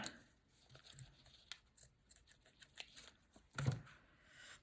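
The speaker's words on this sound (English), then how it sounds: "All right, I'll just cut this piece now before we glue it." Ribbon for a junk journal is cut in a series of soft, close snips and rustles, faint and irregular, with one sharper crunchy cut near the end and no speech.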